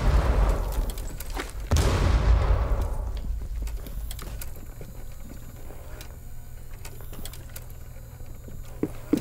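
A frag grenade blows up in a tactical shooter game, one loud close boom with a long rumbling decay, followed by quieter clicks and scattered in-game noises.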